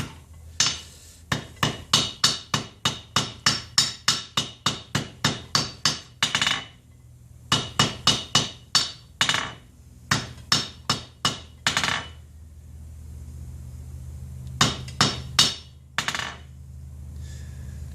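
Hammer strikes a silver ring on an anvil during forging, dozens of sharp ringing metallic blows in a fast steady rhythm, with a brief pause and a few final taps near and loud.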